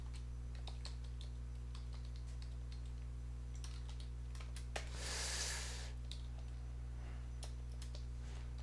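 Someone types Java Spring code on a computer keyboard during a programming lecture. Faint, irregular key clicks come in quick runs over a steady low electrical hum, with a brief soft rustle midway and no talk.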